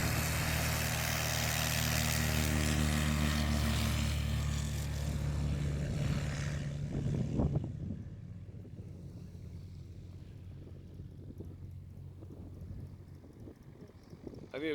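A Sling 2 light aircraft takes off from runway 02 in a slight headwind crosswind, its engine a steady loud drone with heavy wind buffeting that fades to a quieter, rougher hum partway through.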